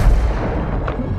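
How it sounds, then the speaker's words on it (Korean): In the Cartel Protection game mission, gunfire opens up with a loud, sharp burst at the start, then a quieter rumbling tail of shots and battle noise follows. "사격 개시"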